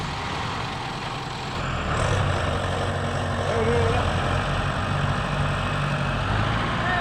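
A tractor engine roars loud and steady as it strains against a thick rope, rising in intensity after the first couple of seconds, with a voice speaking underneath.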